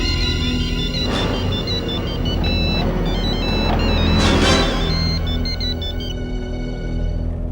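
An electronic telephone ringtone plays a repeating melodic pattern, fairly loud, over a steady low rumble in the background.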